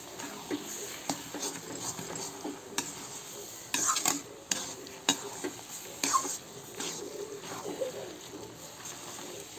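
A spoon stirs kochu shak (taro leaves) with garam masala in a frying pan, making irregular scraping strokes and soft clinks over a faint, steady sizzle.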